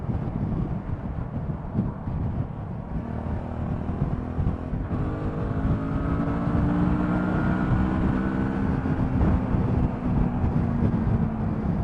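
Suzuki V-Strom 650 XT motorcycle on the move, with a steady engine drone and rising, shifting harmonics as it accelerates, mixed with constant wind rush at the microphone.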